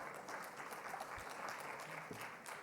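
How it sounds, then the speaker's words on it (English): Applause from the audience at a government digital security summit after a CISO is introduced, a faint, steady wash of many hands clapping heard from a distance with no one talking over it. "please, round of applause, please"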